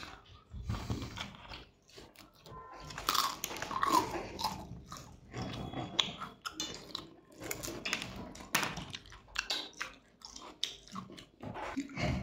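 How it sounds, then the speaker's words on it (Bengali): Someone biting and chewing crunchy fried beguni eggplant fritters with dal at a home meal, close crisp crunches and chewing sounds repeating steadily throughout, with faint background noise. "এই যে বেগুনিতে কামড় দিয়ে দিয়েছে"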